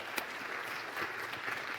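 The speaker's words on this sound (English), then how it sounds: "give a big round of applause for David Bloomberg" Brief burst of steady audience applause at a startup conference as a speaker is welcomed, a dense wash of clapping at moderate level.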